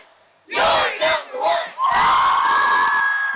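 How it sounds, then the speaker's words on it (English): A group of high school cheerers shouts a loud unison cheer for sports fans, opening with several sharp rhythmic calls and then holding a long sustained yell, close and forceful. "This cheer's for you."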